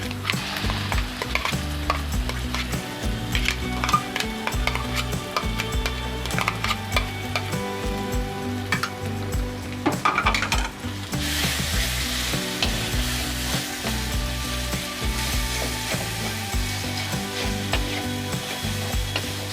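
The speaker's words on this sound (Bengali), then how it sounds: "একটু মশলাটা লাগিয়ে সামান্য একটু ভেজে নেব" Soybean paste frying in a pan with ground cumin and spices, a steady loud sizzle with repeated stirring scrapes throughout, the frying growing brighter and hissier midway.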